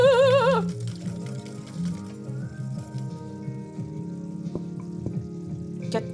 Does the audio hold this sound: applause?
no